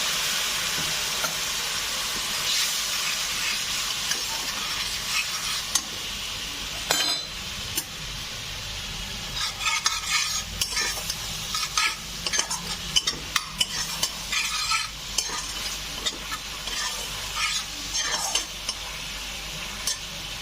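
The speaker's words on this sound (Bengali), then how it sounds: "একটু এখানে গরম জল দিয়ে মশলাটাকে একটু কষিয়ে নেব" Spice paste cooked down with a splash of hot water for a potato and papaya curry, a bright sizzle and steam at first, then busy clattering spoon strokes against the pan, close and fairly loud.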